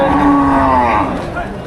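A cow gives a single loud, close moo that slowly falls in pitch at a busy cattle market in Melapalayam, with crowd noise underneath.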